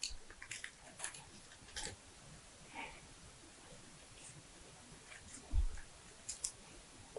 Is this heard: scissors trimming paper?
yes